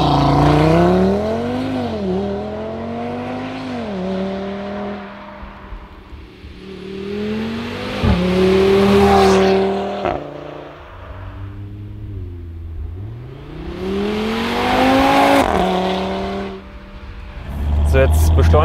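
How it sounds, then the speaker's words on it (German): An Audi TT RS 8S with exhaust flap control does a launch-control start, heard from outside. The engine roars loudly through several rising and falling revs, with brief quiet dips between pulls. "Und jetzt gleich machen wir noch kurz zwei Soundchecks von außen, Launch Control Start"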